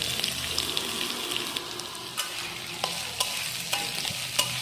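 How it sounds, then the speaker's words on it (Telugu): Bitter gourd pieces frying in oil in a pan give a soft, even sizzle, with a few sharp scrapes and clicks from stirring, fairly quiet and with no talking. "ఆ కాకరకాయ ముక్కలు దాంట్లో వేసుకోవాలి."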